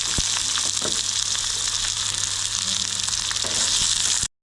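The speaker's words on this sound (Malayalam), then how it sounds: "ഇനി നമുക്കൊരു വറ്റൽമുളക് ചേർക്കാം പിന്നെ അതിലേക്ക് കുറച്ച് ചെറിയ ഉള്ളി നരിഞ്ഞെടുത്ത് ചേർത്ത് കൊടുക്കാം" Chopped shallots and dried red chilli fry in hot oil for a tempering, giving a steady, loud, close-up sizzle that crackles continuously and then cuts off abruptly.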